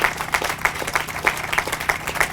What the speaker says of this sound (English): So give Angie Carpenter a big round of applause.